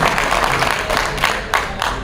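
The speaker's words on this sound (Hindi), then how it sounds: "एक बार जोरदार तालियां बजा करके मुझे बताइए" Audience applause at a mushaira, a gathering of Urdu poetry recitation, steady dense clapping filling the hall for a couple of seconds with a few louder bursts near the end.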